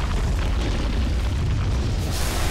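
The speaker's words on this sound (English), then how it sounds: "there's the Throne Explosion." Throne of the Ancient exploding at the end of a Dota 2 tournament match, a sustained, dense booming rumble that stays loud and steady for the whole stretch, with no voices over it.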